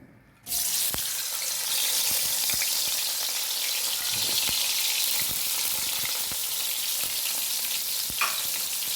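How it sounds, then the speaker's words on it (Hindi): Onions dropped into hot oil in a kadai, bursting into a loud, steady sizzle after a brief quiet start, holding a continuous crackling hiss with faint scattered pops and taps throughout, no voices. "अब मैं इसके अंदर प्याज डालूँगी।"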